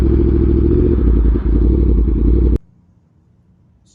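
A used motorcycle ridden on a road test, its engine a loud close rumble with a slight clatter that cuts off abruptly, leaving near silence.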